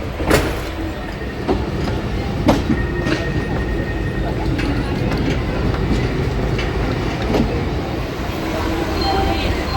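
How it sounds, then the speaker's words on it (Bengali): The Howrah Barmer Express rolls along the tracks with a steady rumble, and sharp clicks and knocks from the wheels over rail joints come through at irregular intervals. "আমরা এখন আছি হাওড়া বর্মা এক্সপ্রেসে"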